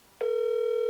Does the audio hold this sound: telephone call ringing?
yes